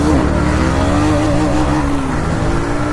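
Motorcycle engine revving hard in first gear while a rider pulls a wheelie, a loud, steady roar close by with rising harmonic pitch sweeps and no talk.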